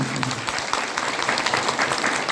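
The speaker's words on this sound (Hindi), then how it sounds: "एक जोरदार ताली सुखराम जी के लिए" An indoor audience at a DXN health seminar in Banke, Nepal gives a short burst of steady, moderately loud applause.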